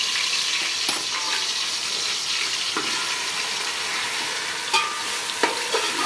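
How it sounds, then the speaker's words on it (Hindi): Marinated chicken and garlic frying in a pot for biryani, a steady loud hiss and sizzle with occasional stirring clacks and scrapes, close up and with no talking. "अब हम इसमें लहसुन डालेंगे और मैरिनेट किया हुआ चिकन डालेंगे।"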